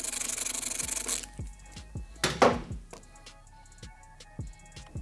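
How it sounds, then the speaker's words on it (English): Ratcheting and loosening of the brake lever pivot bolt with a 10mm socket on a 2024 Kawasaki Ninja 500 opens with a steady rasping burst, then gives way to a string of close, sharp metallic clicks and taps. "and loosen the pivot bolt."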